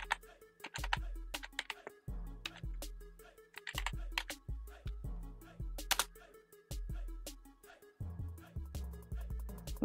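Keys clacking on a computer keyboard at a laptop or PC, close and crisp, in irregular quick bursts with short pauses between runs of typing.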